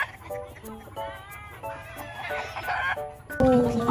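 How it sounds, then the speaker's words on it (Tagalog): Chickens on a farm in summertime, including birds shipped from America to the Philippines, cluck and call in short, tonal bursts at close range, growing louder toward the end with a sharp squawk. "So dito nilalagay yung mga manok na pinapadala mula Amerika papunta dito sa Pilipinas."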